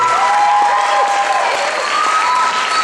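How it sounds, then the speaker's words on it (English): A talent show audience applauds steadily, dense clapping filling the space at full volume throughout with no pause. "give them a round of applause for showing respect to the country"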